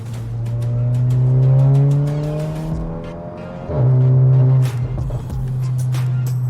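An Audi B9 with a big turbo pulls hard in third gear, its engine note climbing loudly and steadily, dropping briefly at a shift near the middle, then surging again before easing off.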